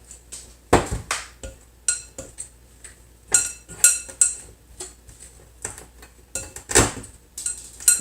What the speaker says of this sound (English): I'll just use this fork, it's okay, and mix it